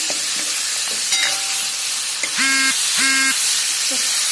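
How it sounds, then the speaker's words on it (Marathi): Kadaknath black chicken stir-fried in a pan with whole cardamom and black cardamom, giving a steady sizzle and hiss. Two short louder bursts of frying stand out near the middle. "थोडं व्हाईट कलर आला तोपर्यंत परतत राहायचं"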